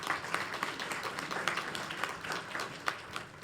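A polite crowd at a business workforce forum gives a soft round of applause, faint and steady with scattered distinct claps throughout.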